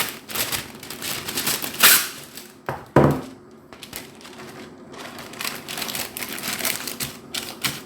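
Baking paper is handled and crinkled for a 9 by 9 by 2 inch baking dish, a run of crisp rustles and crackles with a couple of sharper bumps.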